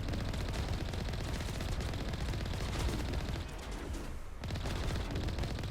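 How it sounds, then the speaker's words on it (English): Pirates in the video game Mass Effect open fire in continuous rapid bursts of gunfire, loud and dense, with a brief dip before the shooting resumes. "Stop shooting me."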